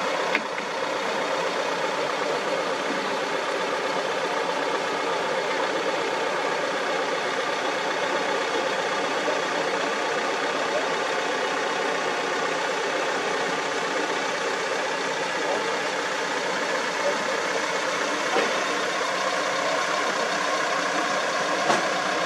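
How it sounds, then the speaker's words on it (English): A parked taxi's engine idles nearby in Gibraltar, a steady broadband rumble and whir that stays constant throughout with no change in pitch, heard alone without speech. "Apologies for the noise. There's a taxi there parked up."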